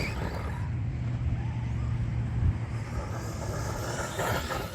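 An Arrma Outcast 4S, a big 1/10 scale RC stunt truck, runs off-road at full speed, a steady broadband motor and tire roar holding at even loudness for several seconds, with no talk.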